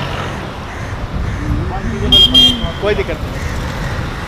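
Road traffic at a busy Kolkata crossing rumbles nearby, with a short double horn toot in the middle, under steady talk.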